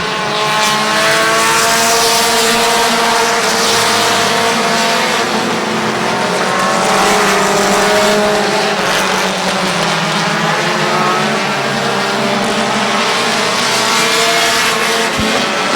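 Race cars roaring around the track at Midvale Speedway, a loud, dense engine drone with rising and falling revs as the pack circles, no talk over it.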